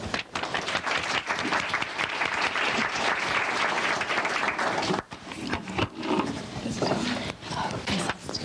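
A conference audience at a 1991 neonatal parent care conference in Atlanta applauds to welcome a speaker: steady, dense clapping from a large crowd, with a brief dip partway through.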